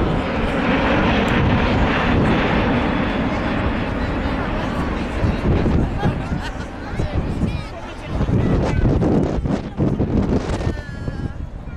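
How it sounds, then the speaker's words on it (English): A loud, broad jet engine roar fills the scene at an outdoor show, with wind buffeting the microphone and crowd chatter beneath, as an Airbus A380 with Rolls-Royce Trent 900 engines passes overhead. "The A380 is in flight today. It comes with a Rolls-Royce Trent 900 engine."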